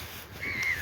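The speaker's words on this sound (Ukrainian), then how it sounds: "знову сидять" A single crow gives a short, distant caw over a steady outdoor hush at a beach.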